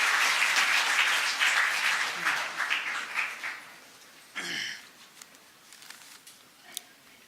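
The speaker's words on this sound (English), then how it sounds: "Let us welcome him with a big round of applause." Audience applause at a Ram Mandir event fills the opening seconds with dense clapping, then thins out to scattered claps before fading, with a short noise burst partway through.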